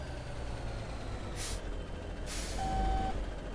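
A truck backs in within the Alaskan Truck Simulator game: a steady low engine rumble, two short air-brake hisses, then a single clear reversing beep.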